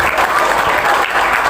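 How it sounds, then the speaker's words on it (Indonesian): An audience at a talk bursts into loud, close applause, a dense continuous patter of hands with faint voices blended underneath. "ini tepuk tangan"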